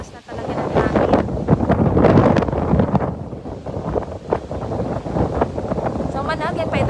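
Typhoon Tino's strong wind under signal number 3 in a Philippine province, a continuous blustery roar buffeting the microphone while a voice talks over it.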